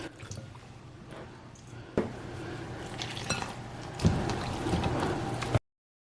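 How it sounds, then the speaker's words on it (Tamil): Appam batter being mixed by hand with cold water poured in bit by bit, giving soft wet squelches, sloshing and stirring scrapes against a bowl, close and fairly quiet, with a few sharper knocks. "கொஞ்சம் கொஞ்சமாக விட்டு இதை குழைச்சி எடுப்போம்."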